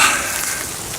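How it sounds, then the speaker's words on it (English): Light April rain shower patters steadily on a tarp at a bushcraft campsite, a close, even hiss of drops with no voices. "as you can probably hear, we've got a little bit of rain, April showers coming down on us."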